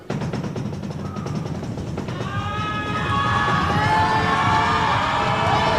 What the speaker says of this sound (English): hear the crowd trying to mess up free throw